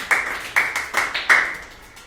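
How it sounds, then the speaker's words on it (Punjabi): Children clapping in a classroom: five or six short, sharp claps close by, spaced unevenly and each dying away quickly, with no talking. "ਸ਼ਾਬਾਸ਼ ਤਾੜੀਆਂ ਲਗਾਓ"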